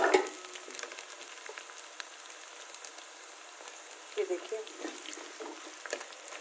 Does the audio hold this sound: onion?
yes